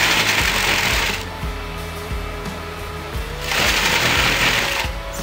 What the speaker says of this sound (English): you're going to start sew with the skirt